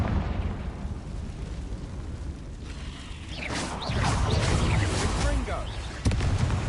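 A Confringo spell bursts in Hogwarts Legacy: a deep, booming blast with swirling whooshes and crackle, rising midway and hitting hard again near the end, set among busy game sounds and a talking voice.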